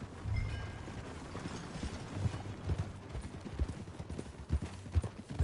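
Hooves clip-clop at an unhurried walking pace in the video game Red Dead Redemption 2, a series of soft, irregular knocks over a faint background rumble.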